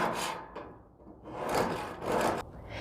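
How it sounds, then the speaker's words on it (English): Grill brush scraping across barbecue grill grates, several long rasping strokes back and forth with brief pauses between, close and fairly loud with no voices. "use this edge to clean and scrape"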